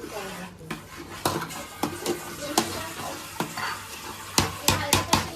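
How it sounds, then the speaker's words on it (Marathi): A thickening mixture stirred in a pan over a low gas flame, with repeated spoon clacks and scrapes against the metal over a gentle sizzle, close and irregular. "तो घट्ट करायचा थोडा स्लो गॅसवर असंच हे करत राहायचं मिक्स करत राहायचं"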